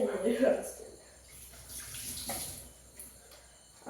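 Water runs from a tap and splashes briefly, then fades to a quieter trickle with some handling noise and light talk.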